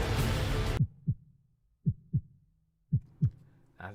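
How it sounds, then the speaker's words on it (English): Heartbeat sound effect after a noisy burst is cut off, three paired low thumps in steady lub-dub rhythm, close and clear against near silence. "And that's a heartbeat indeed."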